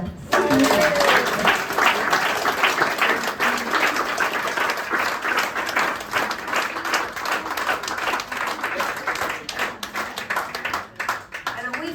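Warm audience applause greets the performer at a concert aboard the El Alamein boat, a dense, steady wash of many hands clapping that carries through the whole stretch, with a few voices briefly audible near the start.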